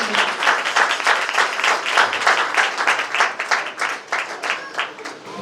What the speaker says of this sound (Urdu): تو زوردار تالی بجا کر ہم خدا کے بندہ کو دعوت دیں